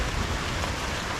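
Steady rain pouring during a storm, dripping through a leaking roof indoors; a dense, even hiss of drops fills the whole clip, close and moderately loud, with no voices.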